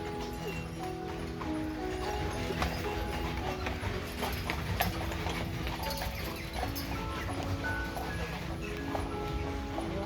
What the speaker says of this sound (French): c'est en calèche que l'on visite la ville